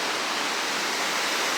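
Even, unbroken rush of a Glen Tilt river running in the hills, a soft wash of water noise with no voices over it.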